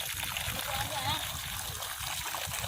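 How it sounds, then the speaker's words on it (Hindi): Water splashes and trickles steadily from a mosque tap as children wash their hands, with voices talking over the running flow throughout. "तो ये मस्जिद में से पानी निकल रहा है, तो उसमें हाथ धो रहे।"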